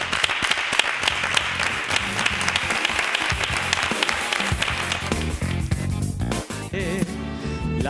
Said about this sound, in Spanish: un fuerte aplauso para Hilario Prados